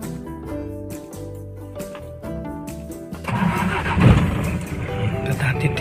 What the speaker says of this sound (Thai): สตาร์ทติดทีเดียวเลยนะครับคันนี้